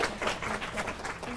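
A seminar audience of mathematics teachers applauds a speaker, a dense, steady wash of many hands clapping at moderate loudness for a short stretch.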